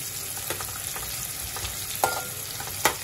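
Onions frying in oil in a home kitchen while cooking prawn gravy, a steady low sizzle with occasional stirring clinks and scrapes standing out, no talking.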